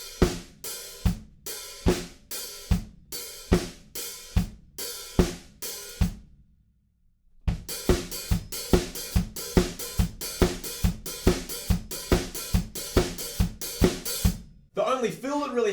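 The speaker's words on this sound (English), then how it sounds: "we just add our hi-hats, sizzling the offbeats, so we end up with our boots and cats kind of beat" A drum kit plays a steady boots-and-cats groove, alternating kick and snare with sizzling hi-hats on the offbeats. It plays loud and close, pauses briefly, then resumes at a busier pace.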